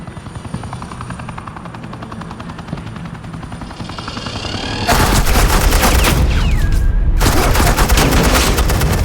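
A helicopter drones steadily in a Batman video game, then dense suppressing machine-gun fire erupts loudly over it in two long sustained bursts separated by a short break.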